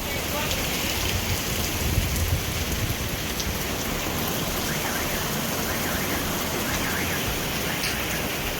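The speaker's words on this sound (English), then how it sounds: "the rain comes down crazy" Heavy rain pours down during the Sierra Leone rainy season, a dense, loud, unbroken roar of drops on surfaces, with faint electronic chirps creeping in toward the end.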